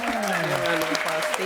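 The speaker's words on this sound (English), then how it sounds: "Give them another round of applause." Audience applause at a live event with a host on stage, steady clapping filling the whole moment while a voice speaks over it.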